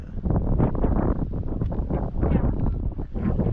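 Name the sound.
wind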